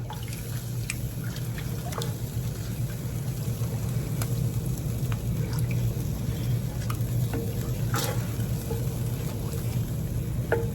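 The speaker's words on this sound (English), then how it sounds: "we're going to bring this up to a boil" A steady low simmering hiss with scattered soft bubbling pops and crackles as sauce heats toward a boil in a pot, continuous and close.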